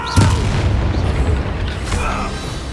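A Bombarda spell blast in the video game Hogwarts Legacy, a single deep booming explosion that rumbles and fades over a couple of seconds with faint game effects above it.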